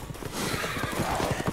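Rapid hoofbeats of several horses galloping close by in the video game Resident Evil Village, a steady loud clatter with a faint whinny mixed in.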